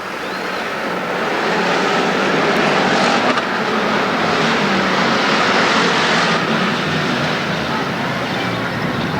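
Bomber-class race cars roar past together at Ascot Speedway, a dense, loud, steady wash of engine noise as the pack accelerates, heard from a grandstand distance.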